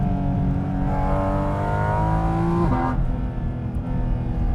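A Porsche GT4 RS engine pulls hard under acceleration, its pitch climbing steadily before a quick shift drops the tone and the rising howl starts again, loud and close.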